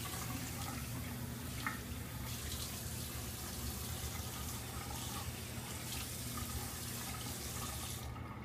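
Cold water running steadily from a tap into a sink for wetting the face before a shave, a continuous close splashing flow that stops abruptly at the end.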